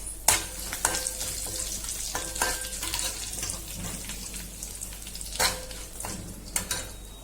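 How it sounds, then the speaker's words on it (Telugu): Curry leaves and a dried red chilli frying in hot oil for a dried shrimp curry: a steady close sizzle with sharp crackling bursts and scattered clinks of a spoon stirring in the pan. "అలాగే కొంచెం కరివేపాకు కూడా వేసుకుంటున్నాను"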